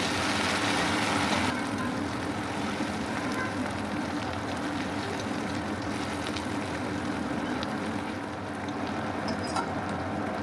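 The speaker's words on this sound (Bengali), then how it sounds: "আদা রসুনের পেস্ট দিয়ে 1 মিনিটের মতো নেড়ে চেড়ে ভেজে নেব।" Ginger garlic paste fries in a pan as a steady, dense sizzle, loud at first and then even, heard close with no talk.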